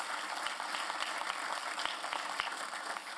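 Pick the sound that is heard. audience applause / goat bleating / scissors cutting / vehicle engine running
audience applause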